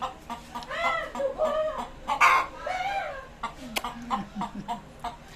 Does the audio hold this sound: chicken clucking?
yes